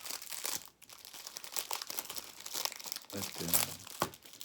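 Crinkly candy bar wrapper packaging from an advent calendar, a Kinder Bueno wrapper, rustles and crackles in quick handling bursts nearby, with a brief voice partway through.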